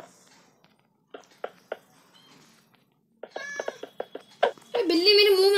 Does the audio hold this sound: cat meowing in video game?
yes